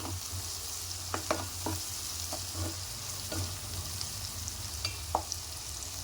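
Spoon stirring turmeric into cauliflower and egg curry in a pan, a soft steady sizzle with a few distinct scraping taps against the pan, quiet and close, no talking.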